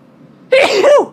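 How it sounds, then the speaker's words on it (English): A single loud, close sneeze bursts out after a moment of quiet room tone. "Let me sneeze."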